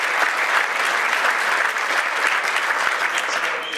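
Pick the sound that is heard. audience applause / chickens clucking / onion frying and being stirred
audience applause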